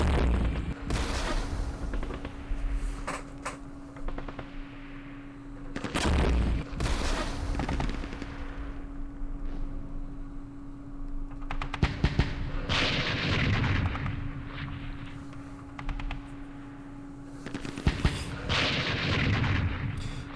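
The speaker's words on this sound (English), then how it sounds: "the automated scripting, that allows the mortars to fire even though they shouldn't be firing" Mortar and artillery fire in the war strategy game Campaign Series Middle East, with repeated sharp booming blasts at irregular intervals over a steady low hum, some shots clustered close together.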